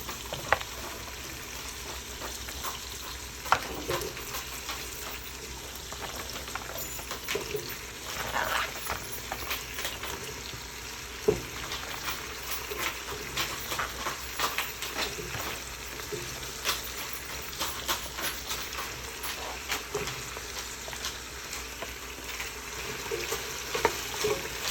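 Carrots frying with onions in a pot, a continuous close sizzle with occasional clicks and scrapes of stirring, steady throughout with no voices.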